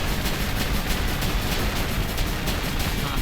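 Cannons fire in the video game The Messenger, a dense, continuous barrage of loud, overlapping blasts with no gaps.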